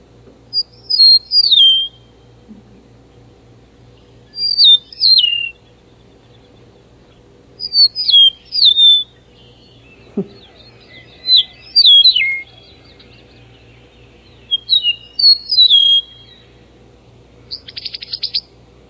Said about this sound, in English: They have a beautiful call. It's been called Spring of the Year is the mnemonic phrase.